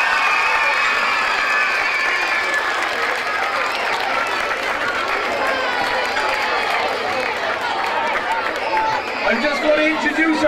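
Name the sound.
children's crowd applauding and cheering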